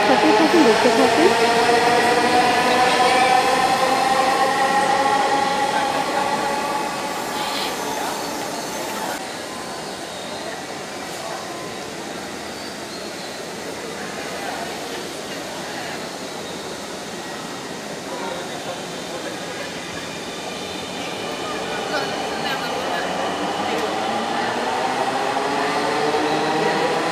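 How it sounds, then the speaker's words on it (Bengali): A Dhaka metro rail train pulls away from a crowded platform with a rising electric whine and a steady rolling rumble. "ট্রেন আবারও ছেড়ে দিচ্ছে।"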